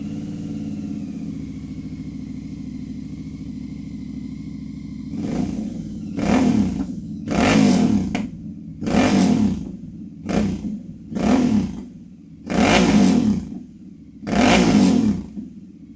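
Motorcycle engine fitted with a Kelpi Bear-650 slip-on exhaust, idling steadily and then blipped through seven or eight sharp, loud revs in close succession, each dropping back to a rumbling idle.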